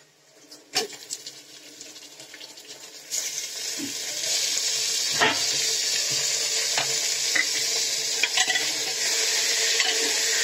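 Mutton sizzling and frying in a pan, the hiss growing louder as it is stirred, with scattered clinks and scrapes of a spoon against metal.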